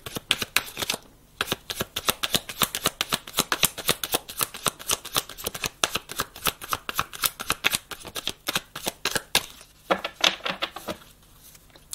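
A deck of tarot cards is shuffled by hand in rapid rhythmic riffling bursts, close and crisp, pausing briefly before a final few flicks as cards are drawn.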